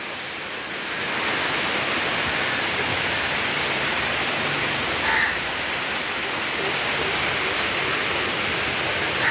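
Steady rain in Goa falls as a continuous broadband hiss, like a downpour drumming on plastic sheeting, holding at an even loudness throughout with no voices.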